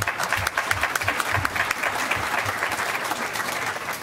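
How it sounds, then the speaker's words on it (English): Steady, dense applause from an audience at a board meeting, a continuous crowded patter of many hands clapping at fairly close range, with no talking over it. "Just an applaud to her."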